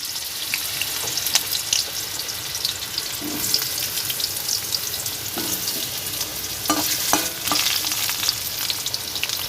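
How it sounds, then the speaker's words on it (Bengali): Pieces of fish fry in a pan for a fish curry with a continuous, close sizzle and crackle, dotted with spattering pops and a few utensil scrapes, no voices. "মাছগুলো ভাজা হয়ে গেছে"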